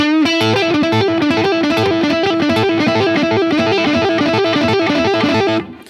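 A distorted electric guitar plays a quick, repeating lick, loud and close, with dense crunchy harmonics, ending abruptly near the end.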